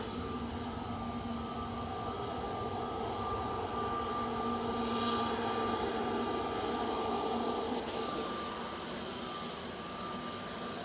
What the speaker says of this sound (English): another EasyJet parked on uniform making a load of noise